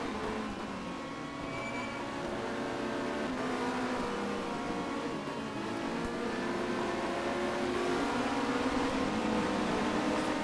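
Touring cars race at Dubai, their engines droning and revving steadily at a distance, with overlapping tones rising and falling as the cars run together, continuous throughout.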